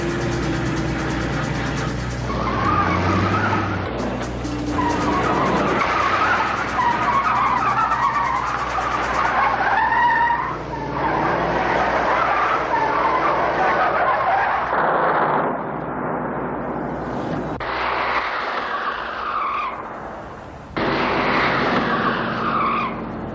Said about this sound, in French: un inspecteur qui nous tapera une belle course-poursuite comme Bullet avec Steve McQueen